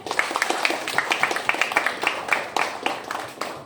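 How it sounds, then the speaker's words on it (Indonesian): Classroom pupils clap for a classmate named Upi, a dense run of close, brisk hand claps lasting a few seconds without speech. "kasih tepuk tangan buat Upi"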